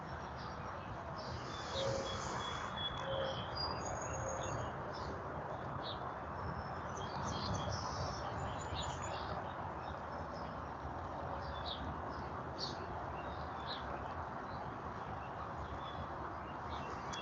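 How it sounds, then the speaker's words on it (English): Birds chirp faintly outdoors, with scattered small tweets over a soft, steady background hiss and a distant low rumble. "You can listen to the birds chirping,"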